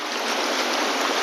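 The Ganges river rushes past in a steady, broad roar of flowing water, close and uninterrupted for a brief moment.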